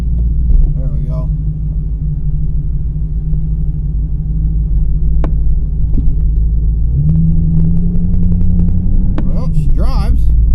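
A Jeep Cherokee XJ, freshly fitted with an aftermarket fuel injection system, drives with a steady low engine rumble and drone throughout, the pitch shifting midway as it pulls along, with a brief voice heard near the end.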